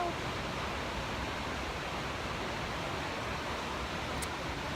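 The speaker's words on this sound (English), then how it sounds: "I want to get under that waterfall." A waterfall roars as a steady, dense broadband rush, loud and unbroken from start to finish with no other clear sounds.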